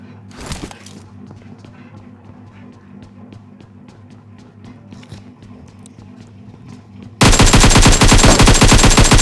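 Gunfire from the battle royale game PUBG: faint, rapid repeated shots sound from a distance over a low steady hum, then a loud dense burst of automatic fire erupts close by for the final two seconds.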